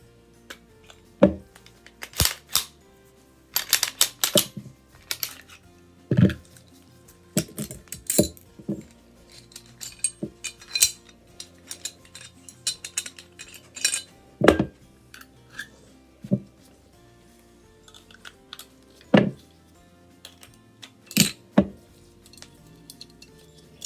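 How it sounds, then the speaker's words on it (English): A Tokarev pistol is taken down for cleaning after firing corrosive ammo. Close metallic clicks, clinks and light clatter come in irregular bursts separated by short pauses, with no speech. "let's go ahead and take down the Tokarev and I'll show you what I do on cleaning this up from corrosive ammo."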